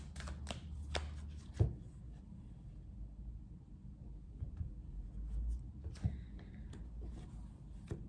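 A deck of playing or tarot cards being cut and shuffled in a quiet room, with a few soft riffles and taps spread over several seconds, faint and close with no talking.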